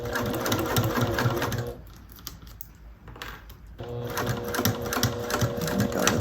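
Sewing machine stitching piping onto a bag, a steady mechanical whir in two runs with a brief quieter pause near the middle, close and loud.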